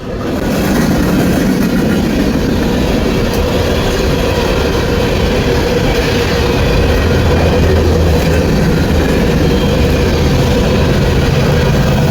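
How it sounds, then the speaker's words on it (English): A coal train rumbles past close by, a steady heavy roar of wheels and cars with faint clickety-clack throughout, no voices. "Coal train comes down through here."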